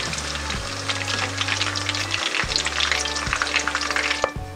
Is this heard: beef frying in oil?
yes